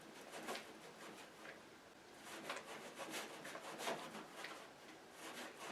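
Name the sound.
mixing honey and nut butter together in a bowl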